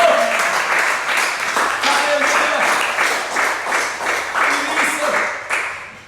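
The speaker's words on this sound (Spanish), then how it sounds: "dale fuerte ese aplauso" Church congregation applauding at a Spanish-language service, with a loud, dense run of steady clapping all the way through while a voice calls out over it.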